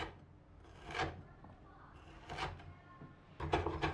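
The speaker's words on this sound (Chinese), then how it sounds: "切几片生姜片" A knife cuts fresh ginger into slices on a board, with about three distinct scraping chops spaced through a quiet kitchen background.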